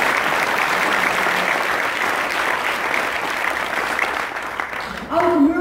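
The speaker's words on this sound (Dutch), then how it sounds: "En ook echt even een groot applaus voor." An awards ceremony audience applauding, with dense, loud, sustained clapping from a large room that fades slightly before a voice comes in at the end.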